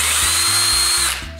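Close, loud whine of a power drill running into wood, the pitch wavering under load before the motor stops.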